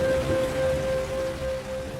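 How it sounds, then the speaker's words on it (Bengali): Heavy rain falls at night in a steady, dense hiss of drops on surfaces, with a faint sustained tone running underneath. "আজকে অনেক বৃষ্টি হচ্ছে"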